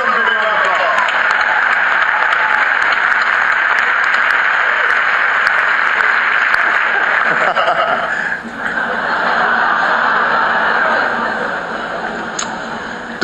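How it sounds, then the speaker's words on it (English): Loud, sustained applause from an audience at the White House Correspondents' Dinner in 2012, a dense wash of clapping mixed with laughter that dips briefly and swells again. "Let's give them a big round of applause."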